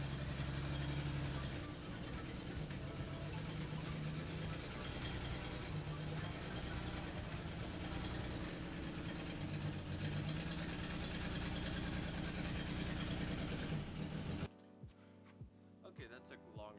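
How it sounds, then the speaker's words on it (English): Datsun 280ZX engine idling steadily and loudly up close, with a low rumble running for about fourteen seconds before cutting off, leaving near silence. "we're gonna go ahead and get the Datsun started."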